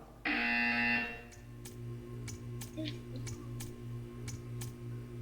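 A loud electronic buzzer in Portal 2 blares for about a second, then stops, followed by a steady low hum and faint ticking clicks.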